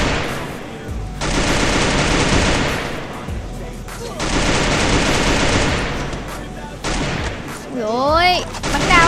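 Gunfire in a shooter video game, long sustained automatic bursts in two loud stretches with brief pauses between them, close and dense, with a gliding effect near the end.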